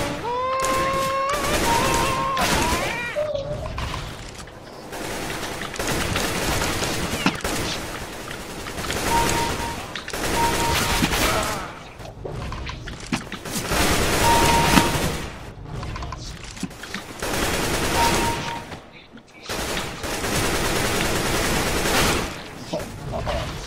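Rapid gunfire rattles through a first-person shooter game in a long barrage of dense bursts with short lulls, while a voice speaks now and then under the shots.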